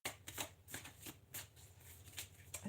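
New tarot cards being shuffled by hand, a series of crisp riffling bursts repeating in a loose rhythm, close and fairly quiet, with no talking.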